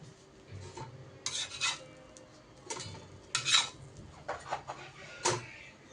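Cooked vegetables for a veg sandwich being moved from a cooking pan onto a plate, with several short scraping clinks of a metal utensil against cookware in quick clusters, close and fairly quiet.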